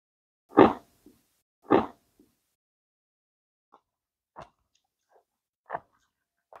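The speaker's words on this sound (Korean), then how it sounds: "설탕이 부서진 소리가 들리네요" Sugar-coated green grape tanghulu is bitten, and two loud crisp crunches of the cracking candy shell come first, followed by softer scattered chewing and crackling sounds up close, with no talking.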